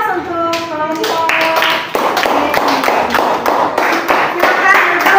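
Classroom applause for a student group, a burst of many hands clapping in quick irregular rhythm, close and fairly loud, with a few voices mixed in at the start.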